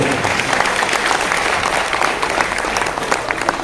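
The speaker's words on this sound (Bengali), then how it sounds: "একবার ম্যাডামের জন্য জোরদার হাততালি চেয়ে নেব।" An audience at an RCM business meeting applauds a woman with dense, continuous clapping that holds steady for several seconds, close and loud.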